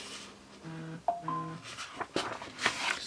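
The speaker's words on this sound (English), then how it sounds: "This is my phone, don't worry." A phone gives a short run of electronic tones, several clear beeps in a row followed by a few softer clicks and rustles, close by in a quiet room.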